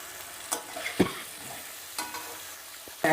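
Chicken with tomatoes and lemon being stir-fried for chicken masala makes a low, soft sizzle broken by a few spoon scrapes against the pan, with a louder clatter at the very end and no voices.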